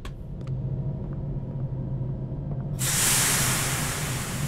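In a horror video game, steam suddenly bursts into a loud, broad hiss that cuts in partway through over a constant low rumble and continues to the end.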